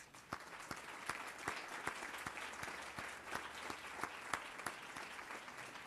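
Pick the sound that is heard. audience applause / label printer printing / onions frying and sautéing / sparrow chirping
audience applause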